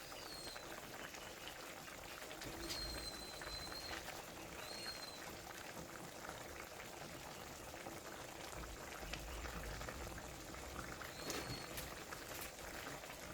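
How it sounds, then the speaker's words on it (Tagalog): Vinegar with liver simmers at a boil in a cooking pot, a faint, steady bubbling and crackling that continues without a break. "Ayan, kumukulo na."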